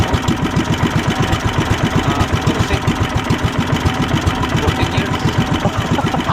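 An engine idles close by with a fast, steady chugging pulse, loud and continuous, while someone briefly speaks over it.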